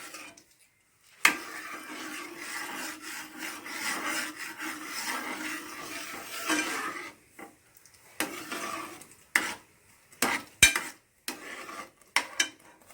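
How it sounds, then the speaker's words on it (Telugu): Ghee goes into half-cooked semolina in a pan, followed by close scraping and stirring with soft sizzling, then intermittent clinks and scrapes of utensils against the pan. "ఇది నెయ్యి వేసుకుంటున్నానండి నేను."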